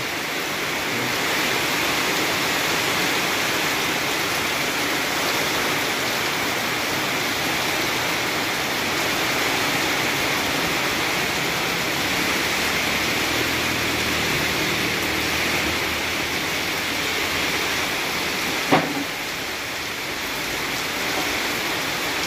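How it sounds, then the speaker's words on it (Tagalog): Relentless typhoon downpour in Cebu, a constant dense roar of rain with no letup and no voices, a single brief knock near the end. "Walang tigil itong ulan na to"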